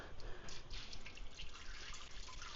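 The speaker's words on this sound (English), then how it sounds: "I'm going to dump this hot water" Hot water poured into the inner chamber of an Instant Pot during home canning: a steady, close, splashing pour that runs unbroken for a couple of seconds with no talk.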